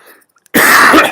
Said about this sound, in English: My cough, by the way, comes from not the COVID disease, but rather a regular head cold